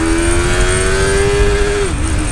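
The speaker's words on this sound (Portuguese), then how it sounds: "Olha a arrancadinha dela." A new motorcycle pulls away from a standstill, its engine note climbing steadily in one long loud rev before a brief drop as it shifts gear, then rising again; no talking.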